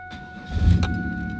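A GM car's 200-horsepower V6 engine cranks briefly and catches in just over a second, settling into a steady close idle. No one speaks.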